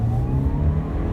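Toyota Corolla Altis with a manual gearbox accelerating hard during a power test; a loud, close engine roar climbs in pitch over a brief burst, with no talking.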